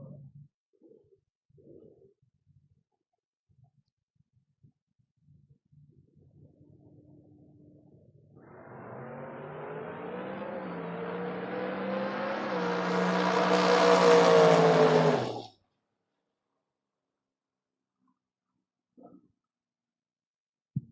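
A drag racing Mustang and Camaro at a door car event launch together: a low idle rumble swells into one loud rising engine roar for about seven seconds, then cuts off abruptly into near silence.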